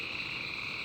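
A frog enemy in a jungle-style Unity video game gives a short, steady croaking buzz with a constant high tone, heard alone and moderately loud.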